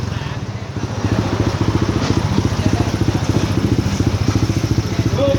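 Motorcycle engine fitted with an APITECH fuel-injection conversion kit, idling steadily with a regular low pulsing throb, close and fairly loud, with faint voices in the background.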